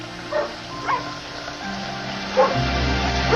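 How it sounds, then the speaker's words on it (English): A dog that barks constantly gives a few short, scattered barks and yips, some way off and moderately loud, over a steady background hum. "The dog started barking"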